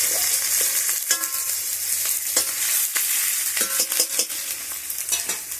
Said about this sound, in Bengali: এবার পেঁয়াজটাও একটু লাল লাল করে বেজে নেবে